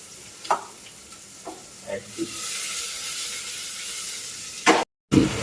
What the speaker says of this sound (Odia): ଦେଖ ମସଲା ପକେଇକି ଟମାଟୋ ଫମାଟୋ ପକେଇକି ଦେଖ କଷିଦେଲି। ପୁରା କଷା ଚାଲିଛି ଦେଖିପାରୁଥିବେ।